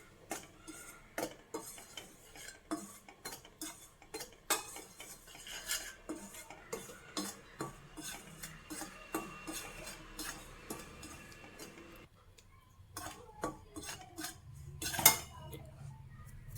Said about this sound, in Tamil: அடுப்பை ஸ்லோலே வச்சு வறுத்து எடுத்துக்கலாம்